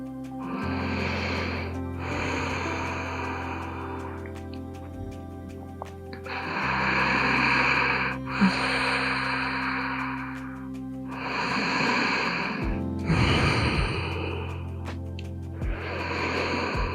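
Deep, heavy breathing during a yoga flow comes in slow, long breaths, roughly six breath bursts with brief pauses between them, close to the microphone over a faint steady background tone.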